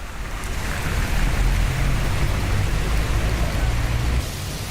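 Heavy monsoon rain pours down on flooded streets in Mumbai, a dense, loud, continuous hiss of rainfall with no voices.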